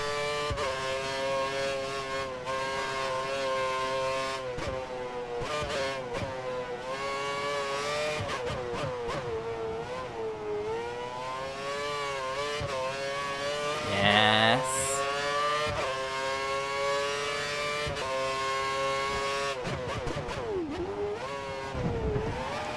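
A Caterham Formula 1 car in the F1 2013 racing game, China circuit, drones loudly and continuously through constant gear changes and revving that rises and falls, with one brief sharp burst partway through.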